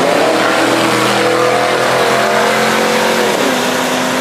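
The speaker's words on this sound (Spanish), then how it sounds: "Y arranca el Mustang en su pase." A V8 Ford Mustang street racer launching its run at an eight-cylinder street drag event, a loud, sustained engine roar with a rising then falling pitch as it pulls away, heard close with no talking.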